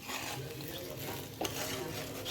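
Semolina stirred in a pan for a spicy savoury dish, a steady broadband scraping and rustle running throughout with a brief louder knock near the middle, no talking.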